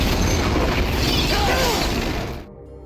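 A large movie explosion from The A-Team roars as a loud, dense wideband blast that sustains for over two seconds before abruptly cutting away to quieter rumble.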